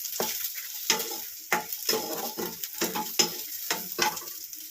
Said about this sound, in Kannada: ಚೆನ್ನಾಗಿ ಫ್ರೈ ಆಗಿದೆ ಈರುಳ್ಳಿ